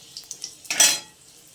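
Cumin seeds, a bay leaf and a dried red chili dropped into hot oil for a chicken curry, giving a sudden loud burst of sizzling after a few light clinks, then fading to a soft hiss.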